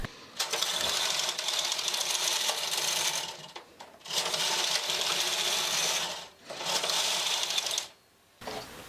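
A domestic knitting machine works a punch card tuck pattern, its carriage sweeping across the bed in three long, loud, steady rasping passes separated by brief pauses.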